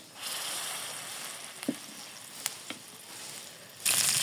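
Oil heats in a wok on a home stove, ready for frying chopped greens with garlic; a soft, steady sizzle with a few light clinks, then a louder hiss surges at the end.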